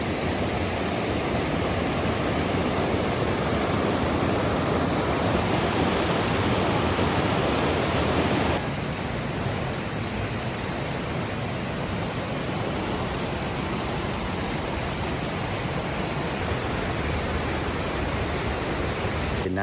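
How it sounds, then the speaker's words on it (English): Steady broadband rush of small cascading waterfalls spilling into pools along the Havasupai trail, loud and continuous throughout, slightly softer after the first few seconds, with no voices. "there's some cool pools and small little cascading waterfalls here"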